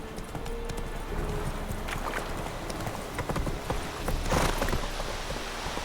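Horse galloping in The Witcher 3, rapid rhythmic hoofbeats thudding close and steady, swelling briefly louder near the end.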